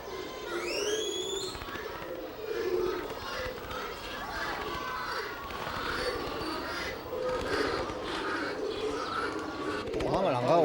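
City pigeons coo and flutter around an elephant's feeding area, soft repeated coos and wingbeats mixed with other bird calls and a busy background, with speech heard.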